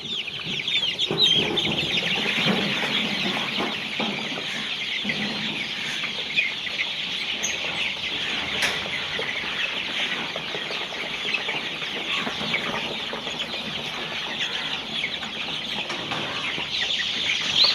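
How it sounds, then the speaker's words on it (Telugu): A flock of Kadaknath chickens at a hatchery clucks and chatters continuously, with overlapping calls from many birds at a steady, fairly close level. "ఇది ఒరిజినల్ కడక్నాథ్ అండి."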